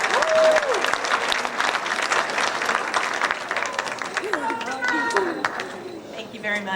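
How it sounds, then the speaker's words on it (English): Sustained audience applause at a high school academic awards ceremony honoring physical education recipients, dense clapping filling the hall throughout with crowd murmur and brief voices mixed in. "One final round of applause for all of our physical education recipients"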